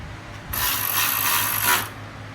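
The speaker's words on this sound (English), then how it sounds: "And now we're gonna bolt that all back together." A ratchet cranks for about a second and a half, a quick run of close metallic clicks, tightening 12 mm bolts on Honda Element subframe connectors.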